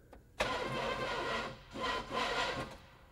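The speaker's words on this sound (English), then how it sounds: "It definitely does sound like there's something wrong with that starter motor." A car's starter motor grinds and whirs through repeated cranking bursts with a faulty starter, loud and close, rising and falling in three rough surges without the engine catching.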